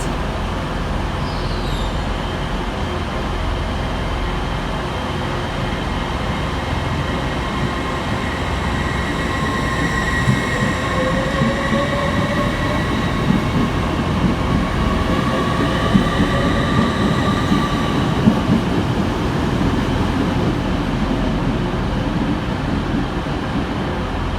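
A passenger train rumbles steadily as it pulls away from Manchester Victoria station, with wheels clattering on the rails and brakes or wheels squealing in high drawn-out tones.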